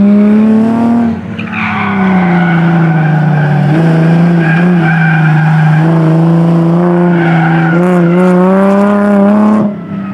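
A BMW time attack car enters a corner too fast at a circuit event and skids, its tyres letting out a loud, sustained squeal with wavering pitch for several seconds, backed by engine roar.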